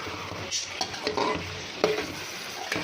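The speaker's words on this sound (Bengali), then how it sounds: "এখানে মাংস, আলু আর কাঁঠালের বিচি আমি একসাথে ভালোভাবে কষাইতেছি।" Beef, potatoes and jackfruit seeds stir-fried together in a pan for beef khichuri: a steady sizzle under repeated scraping spatula strokes and a few sharper clanks, close and moderately loud.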